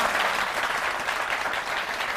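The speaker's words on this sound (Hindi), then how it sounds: "ऑडियंस तालियों से पता चलेगा।" A studio audience on a TV talk show breaks into steady, full applause that holds at an even level from start to finish, with no voices over it.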